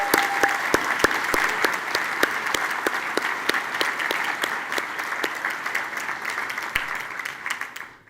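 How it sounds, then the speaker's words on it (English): A commencement audience at The Cooper Union bursts into sustained applause, dense clapping from a large crowd in a hall that continues steadily before fading out at the end. "Graduates, please join me in a round of applause to thank your greatest supporters"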